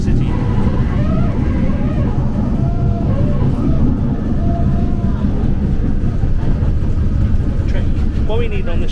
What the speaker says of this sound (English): Jumping on a train in a different country.